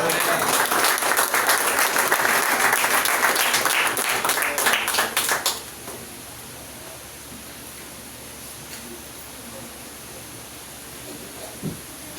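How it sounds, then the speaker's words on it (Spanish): A church conference audience in Santa Teresa del Tuy applauds pastor Daniel Campos, a loud, dense burst of clapping that fills the first five seconds, then cuts off and leaves a quiet room with faint murmurs. "quiero que le den un aplauso de cariño al pastor Daniel Campos"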